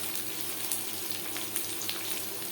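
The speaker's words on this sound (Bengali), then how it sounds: "তেজপাতা ভেজে নেওয়ার পর দিয়ে দেবো পেঁয়াজ কুচি।" Large-sliced onions frying in oil with bay leaf give off a soft, continuous sizzle, low and even, with faint crackles scattered through it.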